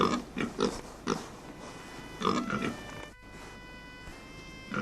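Several pigs grunt and oink in short, irregular bursts while foraging for food. The calls come close together and sit fairly near over a quiet background.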